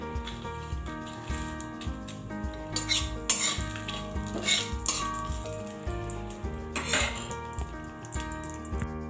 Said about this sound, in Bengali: ফোড়নটাকে আমি একটু ভালো করে ভেজে নেব